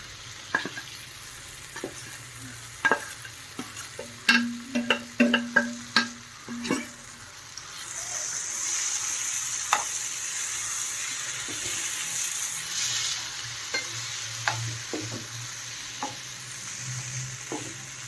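Ground chana dal cooking with softened tomato in a pan, a soft background sizzle broken by a cluster of sharp spoon clicks and scrapes early on, then a louder hiss swelling midway, with occasional stirring taps.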